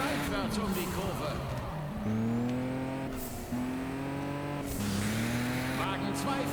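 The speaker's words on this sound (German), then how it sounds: "Wagen 4 fährt seitwärts um die Kurve." Race car sliding sideways through a corner in the Juiced 2 racing game, engine droning in steady revving tones that rise and shift across several gear changes, loud and close, with a light tire hiss underneath.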